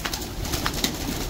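Pigeon fancier's birds, including Hyderabadi pigeons, cooing and fluttering nearby amid a busy, noisy background, with a few soft calls standing out briefly.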